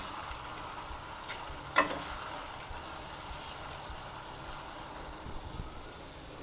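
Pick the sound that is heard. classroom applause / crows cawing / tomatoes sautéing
tomatoes sautéing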